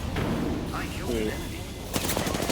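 Gunfire crackles in a battle royale video game amid dense game noise, with bursts of shots near the start and a sharper volley toward the end.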